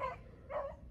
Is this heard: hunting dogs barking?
yes